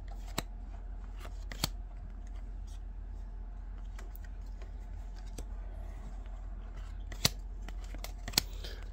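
Scissors snip the corners of a plastic trading card sleeve while opening Topps 2024 Series 1 cards: a few sharp, isolated cuts spaced apart over a quiet, steady room hum.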